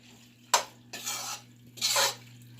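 Macaroni being stirred with cheddar cheese soup in a pot, three distinct scraping, squelching strokes of a utensil against the pot with short pauses between, close and fairly quiet, no voices.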